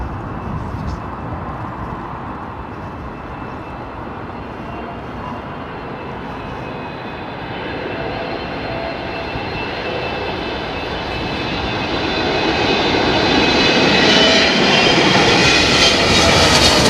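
Aircraft landing at London Heathrow Airport, a broad engine roar that builds steadily louder as it approaches, with rising whine, heard from outside with faint voices nearby.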